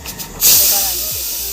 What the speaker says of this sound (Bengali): আমি চার পাঁচটা সিটি দিয়ে নিয়েছি প্রেশারে